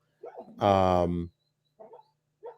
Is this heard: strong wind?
no